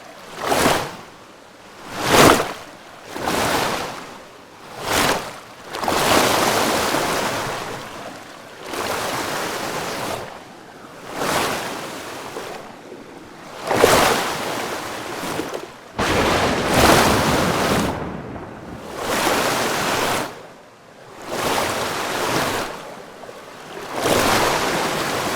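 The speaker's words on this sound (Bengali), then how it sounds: "এভাবে হঠাৎ ঝড় উঠল," Storm on the Jamuna river, with surging waves and gusting wind in repeated loud swells and lulls, roaring close to the microphone with no voices.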